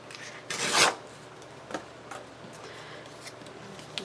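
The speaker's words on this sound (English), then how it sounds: "Tear this end off." A single quick rip of scrapbook paper as the end of a page is torn off, close and fairly soft, followed by faint scattered rustles and taps.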